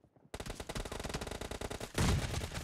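Fast automatic gunfire from a PUBG team deathmatch, an M762 rifle with a suppressor rattling in a rapid continuous burst after brief silence, then a heavier surge of shots near the end, loud and close.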